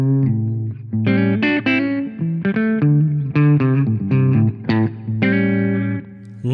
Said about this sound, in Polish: bawimy się w przesterowywanie kanału czystego